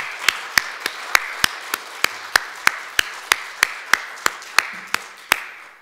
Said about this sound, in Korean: 서로 격려하면서 힘찬 박수 한번 좋겠어요